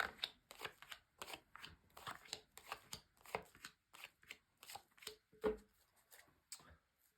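Tarot cards being shuffled by hand in a rapid series of crisp riffling and slapping bursts, close and steady, with no talking.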